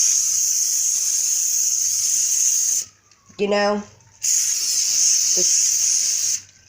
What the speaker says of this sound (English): I get my Lysol, and I always like to spray down